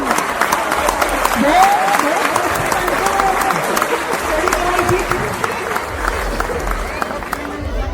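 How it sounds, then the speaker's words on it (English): A crowd at a picnic in Visakhapatnam, India claps steadily for Santa Claus for several seconds, a dense continuous patter of applause with some cheering and chatter mixed in. "Big round of applause for Santa Claus, ladies and gentlemen"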